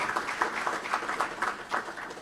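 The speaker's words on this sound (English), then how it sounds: "Please, let's give another round of applause to the Honorable Governor." Applause for the Governor at the Central Bank of the Gambia capital market launch, a fairly quiet spell of scattered, uneven clapping with individual claps pulsing through at moderate distance.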